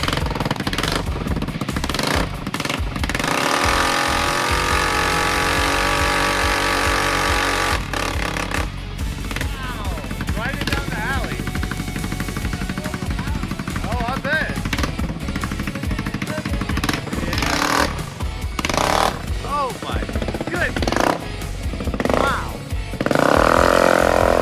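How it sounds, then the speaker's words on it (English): Cheap moped tuned with a muffler delete and cold air intake, revving hard for a burnout: a loud, buzzing, rattly engine climbs and drops repeatedly in pitch, with brief voices and outdoor noise around it. "We're gonna see if we can get a little better burnout out of this unit."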